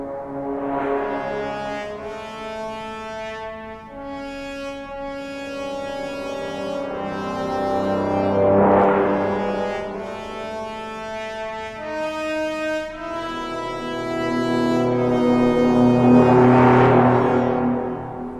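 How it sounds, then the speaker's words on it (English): Distorted brass section for a horror film score, heavy sustained horn chords swelling and shifting in long rising waves, loud and gritty with no voices. "here's what I did with the brass section."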